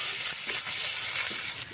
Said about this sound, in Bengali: সব কিছু একটু ভাজা ভাজা হলে এতে দিয়ে দেবো পেঁয়াজ কুচি